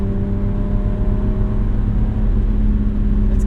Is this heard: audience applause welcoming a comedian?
no